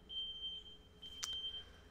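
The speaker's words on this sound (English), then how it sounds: "Sorry for the beeps, everybody." An electronic alarm sounds as a faint, high, steady beep tone with short breaks, plus a brief sharper click partway through, over a quiet room.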